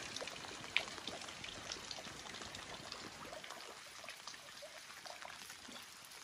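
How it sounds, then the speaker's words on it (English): Heavy rain pours down during a sun shower at an off-grid cabin, a steady dense hiss of drops and water patter that stays fairly even and moderately loud throughout. "How can it be raining so hard?"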